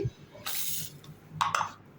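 Water splashes into a pot in two short bursts, close by, separated by a brief pause with faint background hum.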